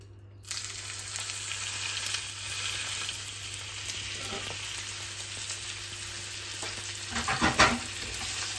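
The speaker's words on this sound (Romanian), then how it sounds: "Și acum o să o băgăm într-o tigaie încinsă ca să-i facem o crustă." Beef fillet searing in a hot pan to build a crust, a loud continuous sizzle that starts abruptly and holds steady, swelling with a burst of spitting and scraping near the end.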